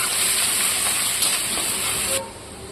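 Whole black and white cumin, mashed ginger, bay leaf and dried chillies fry in hot oil, giving a loud, steady, bright hiss that holds evenly before dropping off abruptly near the end.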